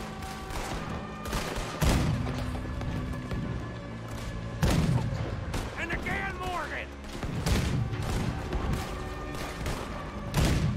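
Gunfire in Red Dead Redemption II during a bank robbery shootout, repeated loud shots and booming bursts scattered irregularly across the stretch, with in-game voices speaking between the blasts.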